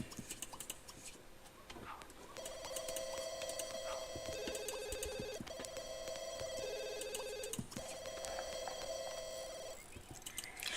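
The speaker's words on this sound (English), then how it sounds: "Why is this person constantly ringing us?" Telephone ringing in the life-simulation game The Sims 2, a repeated electronic ring tone in several bursts with short pauses, moderately quiet and with no talking over it.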